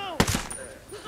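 A single sharp gunshot from Ghost Recon Breakpoint cracks loud and close, followed by a brief fading tail with no talk.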